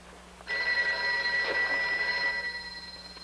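A telephone bell rings steadily and loudly for nearly three seconds after a short quiet start, a continuous electric ring with no speech over it.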